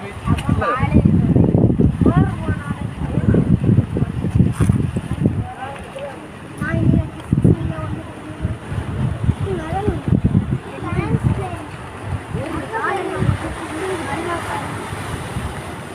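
Strong wind at the seaside roars steadily and loudly, buffeting the microphone beneath frequent nearby talking from several people.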